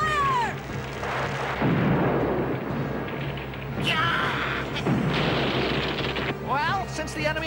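Cannons aboard a ship fire in a battle, heavy booming blasts recurring across the scene alongside other dense action sounds, with voices calling out between shots.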